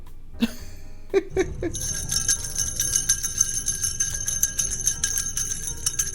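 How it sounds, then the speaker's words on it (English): Small bells on a Santa decoration jingle continuously and brightly after a few sharp knocks, a light tinkling shimmer that keeps ringing close by. "He got his little bells, and his little bells were belling"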